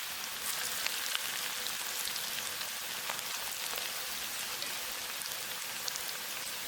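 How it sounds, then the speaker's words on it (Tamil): Chicken pakora frying in oil over a medium flame, a steady dense crackle and sizzle that holds evenly throughout with no voices. "மீடியம் ஃப்ளேமில் வச்சே வறுத்துக்கணுங்க"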